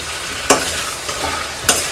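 A utensil stirs pork curry in a sizzling pan, with a steady fry hiss under two sharp scrapes of the spoon against the metal, heard up close and alone.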